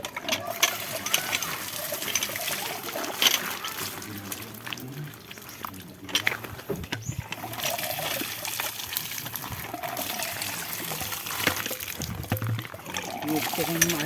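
Water gushes and pours steadily over about fourteen seconds, a continuous rushing wash with some mechanical hum beneath and people talking over it.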